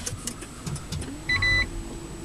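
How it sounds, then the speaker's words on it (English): A Toyota Prius hybrid powers on quietly: soft interior clicks and thumps, then a brief electronic chime or tone, with no engine roar. "So to start a Prius, we take one of the keys, pop it in this slot, put your foot on the brake, press power."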